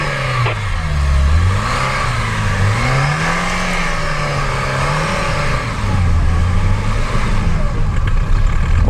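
A Lada Niva engine strains at full throttle while climbing a steep hill, its loud drone rising and dipping repeatedly, with occasional voices underneath.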